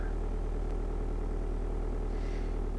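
Truck engine droning steadily in the Euro Truck Simulator driving game at around 3500 rpm, a low, continuous hum with a rough, tractor-like pulse, faint and unbroken with no voices.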